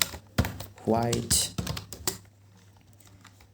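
Quick, uneven keystrokes clatter on a computer keyboard as code is typed, coming in short bursts while a person talks over them.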